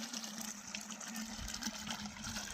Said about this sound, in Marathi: पाणी फास्ट येतं आहे शेतकरी मित्रांनो